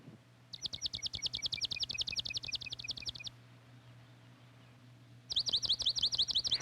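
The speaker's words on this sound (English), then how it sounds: "And this is a fox sparrow," A fox sparrow sings in winter in two bursts of bright, rapid trilled notes: one long run of about three seconds, a pause, then a second phrase starting. The song is clear against a low steady hum.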